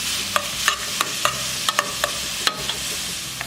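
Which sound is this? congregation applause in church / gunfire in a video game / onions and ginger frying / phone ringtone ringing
onions and ginger frying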